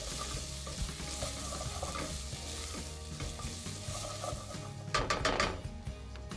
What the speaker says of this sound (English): So let's let these onions cook down and get deliciously golden brown.